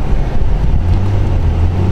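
A 2003 Nissan Maxima 3.5 SE runs with a loud, steady low rumble close to the microphone, the engine droning evenly with some wind-like noise over it.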